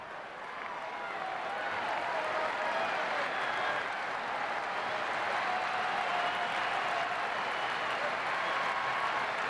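A sellout crowd at Fenway Park cheers and applauds during a Red Sox baseball game, producing a dense, steady roar of clapping and crowd noise that holds at full level throughout.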